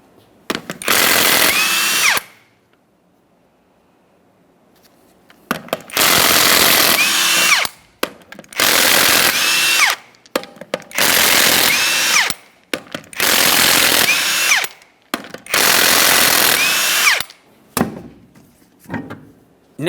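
A power tool, likely an impact wrench, removes the six 21mm lug nuts from the rear wheel of a 2004-2008 Ford F-150 in five or six loud, sustained bursts separated by short pauses and clicks, with no talking.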